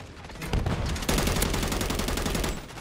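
Rapid bursts of gunfire from the Call of Duty Modern Warfare 3 video game, a dense loud rattle of automatic shots firing continuously for a couple of seconds with a short break partway, no talking over it.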